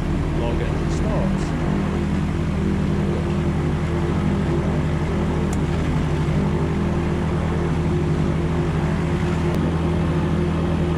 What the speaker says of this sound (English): We have engine start, confirmed oil pressure is rising.